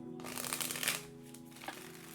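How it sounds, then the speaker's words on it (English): Tarot cards are shuffled by hand, giving a close, quiet riffling and flicking that lasts about a second before softer handling sounds, over a faint steady background hum. "5 shuffles here"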